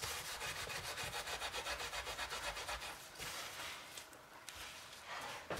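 A stained grill pan is scrubbed hard with firm pressure, producing steady rhythmic back-and-forth rasping strokes that are close and loud, then turn into slower, more uneven rubbing.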